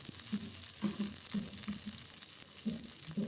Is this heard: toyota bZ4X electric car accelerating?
no